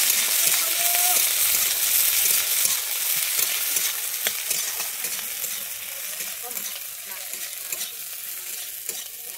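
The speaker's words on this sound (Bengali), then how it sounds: "আমি এবারে দিয়ে দিচ্ছি কুচানো পেঁয়াজ, আর দিয়ে দিচ্ছি আমি 5টা কাঁচা লঙ্কা দিয়ে আমি ভালোভাবে নেড়ে দিচ্ছি।" Chopped onions and five green chillies fry in hot oil for a thin fish curry while being stirred. A loud, continuous sizzle carries scraping stirring strokes and faint clinks.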